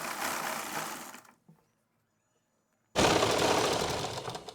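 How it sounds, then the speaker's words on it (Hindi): A sewing machine stitches a suit in a fast, steady whir, loud and close, stopping for a quiet pause of about a second and a half before running again at full speed. "अब हम यहाँ से सिलाई लगाना शुरू करेंगे।"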